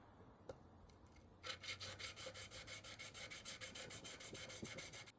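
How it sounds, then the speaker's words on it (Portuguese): Steel chisel back being flattened on coarse, high-abrasion sandpaper with a steady rhythmic rasping, a close repeated back-and-forth scrubbing that starts after a brief pause and continues evenly to the end. "achatar a parte das costas do formão, para deixar isso aqui o mais plano possível"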